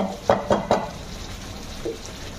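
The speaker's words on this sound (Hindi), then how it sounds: "ये तो हल्का सा फ्राई कर लिया," A few quick scraping stirs clatter in a kadai over a soft sizzle of frying kadai chicken, then one more stir after a pause.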